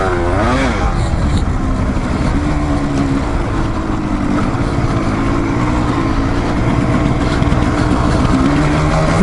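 Off-road motorcycles, a Kawasaki KLR650 and a Yamaha DT200R, riding through a sand pit, with a loud steady engine drone that rises and falls with the throttle and stays close throughout.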